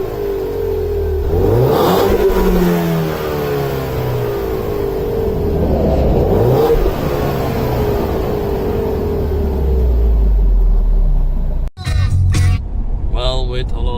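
A Ford Mustang's engine revving repeatedly, rising and falling through several loud, close throttle blips with a low rumbling drone between them, ending with a brief cut and some clicking after the engine drops off.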